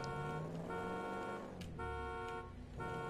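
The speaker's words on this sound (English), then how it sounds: "And the alarm's going off." A car alarm goes off in a crime role-play video game, a steady electronic tone cycling with harmonic pulses, fairly quiet and continuous with no speech over it.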